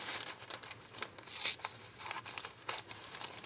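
Paper pattern for a stuffed panda toy's dress being cut with scissors, close and soft, with irregular crinkling snips and rustles in short bursts.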